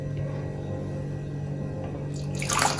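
Fermented rice water is poured into a spray bottle, making a brief trickling splash near the end over a steady low indoor hum.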